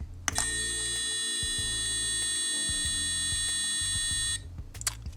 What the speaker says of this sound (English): I built in a little buzzer so I get an acoustic signal.